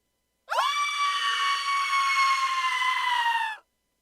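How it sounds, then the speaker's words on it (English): A single loud, sustained scream rises sharply and then holds a steady high pitch for about three seconds before stopping abruptly, with silence before and after. "That's a hell of a scream right there."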